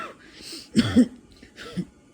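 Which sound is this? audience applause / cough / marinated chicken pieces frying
cough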